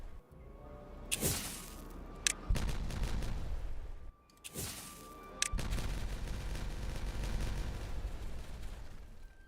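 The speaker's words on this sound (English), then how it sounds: "Separate explosions going on up here" Rumbling video game explosions boom in separate bursts, loud and close, with a sustained roar of crackling blasts filling the latter half with no talking.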